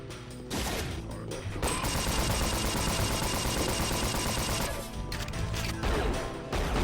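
Rapid, continuous Automag pistol fire rattles loudly in the Unreal video game, a dense stream of shots lasting several seconds with brief crashing impacts at the start and end.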